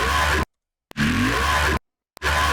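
A reversed synth growl, bounced to audio and flipped backwards, plays as three gritty, buzzing bursts broken by abrupt silences, swelling and cutting off sharply, loud and alone.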